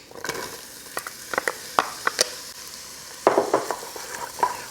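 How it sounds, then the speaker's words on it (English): Onion sautés over medium-high heat in a big pot, with a light frying hiss broken by repeated sharp stirring scrapes and clacks against the pot. "we're going to saute the onions"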